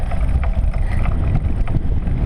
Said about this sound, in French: avec le vent de face